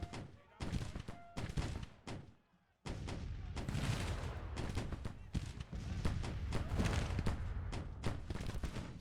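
Dense musket volleys and booming artillery in a Civil War battle crackle and thud in rapid irregular bursts, with a brief lull before the firing resumes heavily, loud and sustained.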